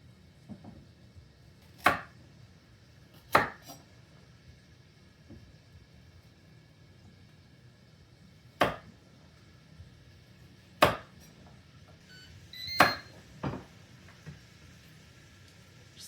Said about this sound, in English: we're going to cut up some carrots, some celery